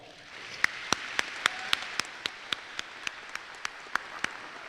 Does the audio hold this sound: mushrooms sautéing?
no